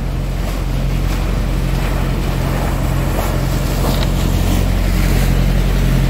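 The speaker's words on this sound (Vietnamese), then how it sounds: "Ghe lớn chạy sóng dữ." A large wooden boat pushes through rough water, its steady engine drone holding low and constant under a continuous wash of waves and spray, loud and close throughout.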